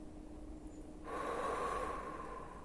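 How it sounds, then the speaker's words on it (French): A person breathes in and then exhales audibly through the mouth during a shoulder blade mobilisation exercise; a quiet inhale is followed by a longer, louder breathy exhale, close and alone without talk. "Vous venez inspirer. Et vous expirez par la bouche."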